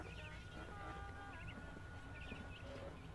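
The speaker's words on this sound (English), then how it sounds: "The bird is freaking out." A pet bird gives agitated chirps and short squawks in a small burst at low level, sitting faint against a steady background hum.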